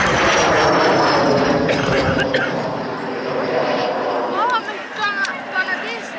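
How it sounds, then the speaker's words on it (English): A Saab SK-60 military jet trainer flies at an air show, a loud broad jet roar that slowly fades as it passes, with someone talking over it throughout. "Binnen de Zweedse luchtmacht werd deze toestel gebouwd, deze SK-60, de vervanging van de Havilland Vampire"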